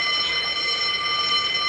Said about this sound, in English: You heard the fire alarm, so who's on fire?